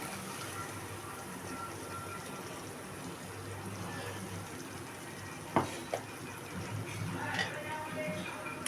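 Tomato puree frying for an okra (bhindi) masala curry, a steady soft sizzle and bubbling in the pan throughout, with a couple of brief utensil clinks near the middle.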